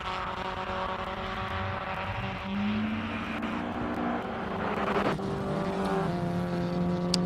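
A 1400cc four-cylinder Datsun GX Coupe races on a circuit during a classic car event, its engine droning steadily at mid distance with shifting pitch, blended with other racing cars on track and no talking.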